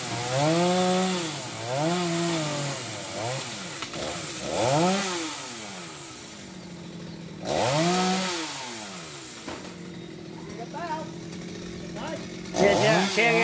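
A chainsaw cuts trees on a restaurant roof, loud and close, its engine rising and falling in repeated revving bursts as it bites into the wood.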